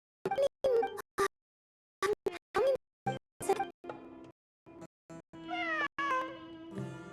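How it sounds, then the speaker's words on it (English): A cat meows repeatedly in short, separate calls with silent gaps, close by and alone, ending in a few longer, drawn-out cries. "It really is a cat."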